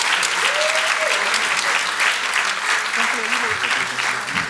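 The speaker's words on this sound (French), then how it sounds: "Encore une bonne main d'applaudissement pour Kimberly Carrington" Loud, close applause at a success gala rings out for Kimberly Carrington, a full crowd clapping continuously while a few voices murmur underneath.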